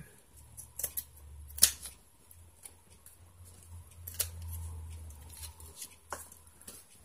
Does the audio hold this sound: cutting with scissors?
yes